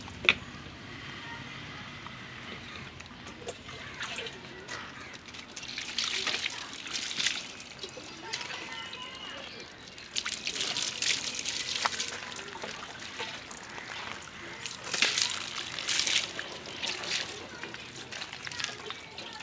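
Water is poured over a child's head during a bath, splashing and trickling in uneven surges. It is soft and close, with people talking over it throughout.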